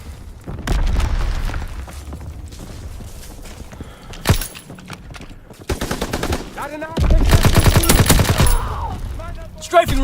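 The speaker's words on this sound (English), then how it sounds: "Strafing run inbound." Strafing run gunfire and explosions in the Call of Duty WW2 multiplayer video game, loud bursts of rapid gunfire and booming blasts that come in waves with short quieter gaps between them.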